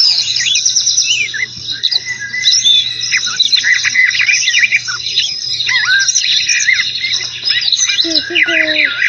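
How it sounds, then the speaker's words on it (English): Dense, busy chorus of birds chirping and squawking close by, high-pitched calls overlapping continuously with a faint low hum beneath. "we have enough bird noises for now"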